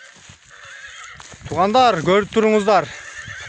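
A three-year-old Polish horse, about 170 cm tall, gives a loud, close whinny with a wavering rise and fall. Short spoken phrases come just before it.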